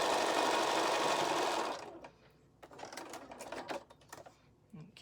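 A sewing machine runs a quarter-inch seam across a quilt block in a steady close whir for under two seconds, then stops, leaving quieter handling rustles and fabric movement.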